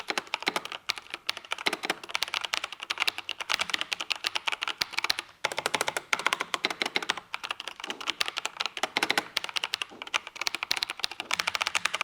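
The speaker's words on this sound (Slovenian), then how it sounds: "sigurno pa vas zanima, kako se te sviči slišijo" Rapid typing on the switches of a new mini computer keyboard, a dense run of close, crisp key clicks and clacks with a brief pause midway, no talking.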